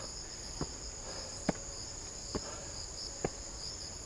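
Insects chirp steadily on a mountain trail on Gyeyangsan, with a high continuous buzz overlaid by four sharp, evenly spaced clicks; no one speaks.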